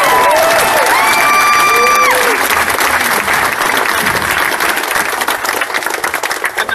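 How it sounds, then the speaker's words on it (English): Crowd applause and cheering for the Capitol Police, Tallahassee PD and FBI at a Tallahassee gathering, sustained dense clapping with whoops and whistles throughout, loud and close, easing slightly near the end. "let's give a round of applause for the Capitol Police, Tallahassee PD, for the FBI"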